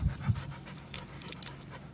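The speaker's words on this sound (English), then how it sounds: "Look, he's like panting already and it's like not even warm out." A heavily furred dog panting on a warm morning, rapid soft breathy puffs repeating close by, fairly quiet and steady with no talking over it.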